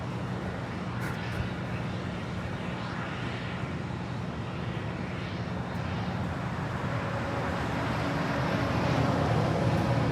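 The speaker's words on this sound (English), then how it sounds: "This is flight 640 coming in from Guatemala City." An Avianca airliner in Taca retro livery arrives at LAX from Guatemala City, its engines a broad, steady roar that swells gradually as it approaches, with no talk heard.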